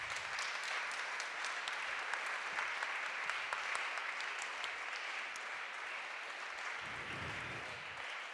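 A conference audience applauds panel speakers, a steady wash of clapping that holds for several seconds at moderate distance before tapering off.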